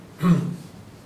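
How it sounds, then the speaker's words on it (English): A single throat clearing, a short rough burst of sound up close, quickly fading into a quiet room. "Solomon coughs and clears his throat"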